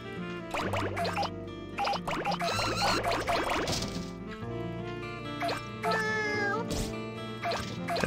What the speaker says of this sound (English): Did I just drop a cat off?